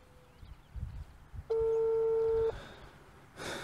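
An outgoing phone call rings unanswered, a single steady electronic ringback tone lasting about a second, clear over quiet outdoor background noise with faint movement before and after.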